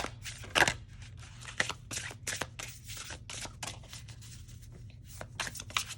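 Oracle cards of the Oracle of the 7 Energies deck being side-shuffled by hand, giving a soft run of quick papery riffles and taps, close and quiet, with no voices.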